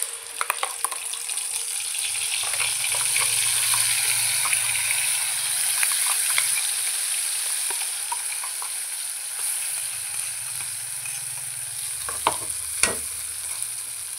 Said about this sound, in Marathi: गॅस बारीक करायचा आहे म्हणजे मसाला चांगला भाजतोय